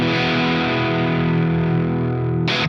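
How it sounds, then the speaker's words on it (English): Electric guitar through a Boss DS-1 distortion pedal with its distortion knob at minimum, giving a mildly gritty tone: a single loud chord sustains steadily for over two seconds before a short scratchy mute cuts it off. "And then putting the pedal again in, but with the distortion all the way down."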